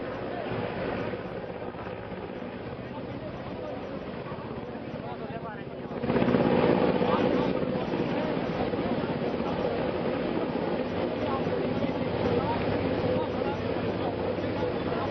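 A rescue helicopter hovers low over the Jammu Tawi river, its rotor and engine making a steady broadband roar that swells sharply louder partway through, as if descending closer, and then stays loud and continuous.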